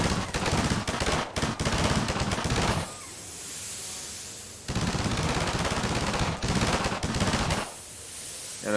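A Combine mech turret in Garry's Mod fires rapid loud automatic bursts in two long stretches, each followed by a hissing cooldown pause, with no talk.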